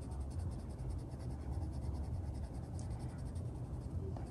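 Colored pencil scratching across paper while coloring, a soft steady rhythmic scraping of quick back-and-forth strokes, close and quiet, with no talking.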